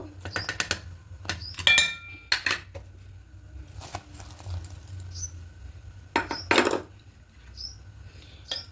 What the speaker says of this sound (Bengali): এবার চালটা দিয়ে এভাবে অনবরত টাড়বো মানে নাড়া ছাড়লে হবে না